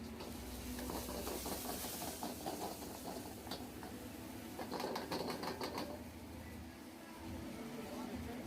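Ginger and garlic paste sizzles in oil in a pan as a broad, steady hiss, with a voice talking over it throughout.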